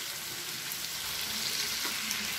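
Tomatoes and onions for a chutney sauté in a pan, a steady close hiss and sizzle of frying with faint stirring scrapes, and no talking.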